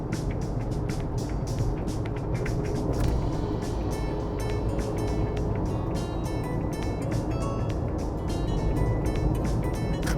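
Inside a kei camping car cruising on the expressway after joining at the Tokyo interchange, a steady road and engine rumble fills the cabin, with light rattling ticks scattered over it.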